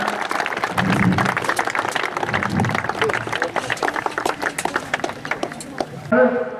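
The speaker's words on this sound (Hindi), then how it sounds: "जोरदार जोरदार तालियां के साथ" A crowd applauds at an outdoor yoga gathering held at a sage's ashram for Basant Panchami. The clapping is steady and fills the clip, with voices over it and a short burst of speech at the end.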